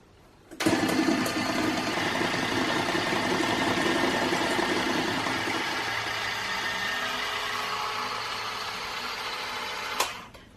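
An electric mixer beats gluten-, lactose- and yeast-free chocolate cake batter with a steady motor whir, starting abruptly and running continuously for about nine seconds before cutting off, with no talking.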